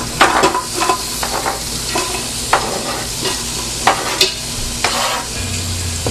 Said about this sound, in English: And we are going to add in our bacon that we've chopped up.